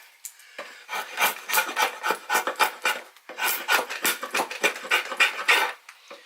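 A hand tool rasps and scrapes wood from an English yew bow stave in quick repeated strokes, a dry close-up filing sound in two bursts of rhythmic scraping with short pauses between.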